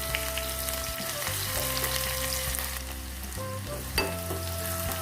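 Onions frying in oil with cumin and mustard seeds, a loud continuous sizzle and crackle heard up close with no voices, one brief knock near the end.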